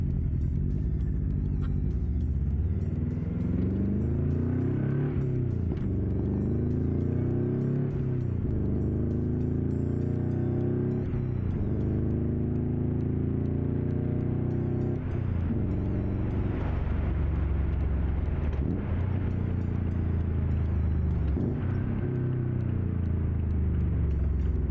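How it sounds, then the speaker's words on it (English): A 2001 Subaru Impreza 2.5RS GC8, naturally aspirated, driven hard with flybys: loud continuous engine rumble throughout, rising and falling with repeated surges of acceleration, close and steady without speech. "We're just gonna drive the car around, do a little bit of spirited driving, maybe some flybys, stuff like that."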